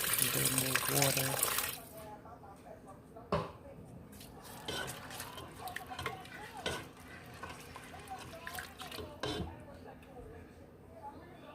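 Water pours into a pot of curry chicken in a short, loud gushing burst, followed by quieter stirring and kitchen clatter.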